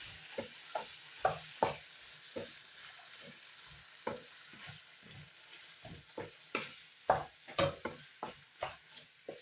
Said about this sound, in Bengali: ছানাটা নেড়ে নিচ্ছি।